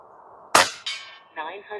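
An FX Airguns Crown MkII air rifle shooting pellets at targets lets off one sharp, close crack, followed by two softer ringing metallic pings as the shots strike.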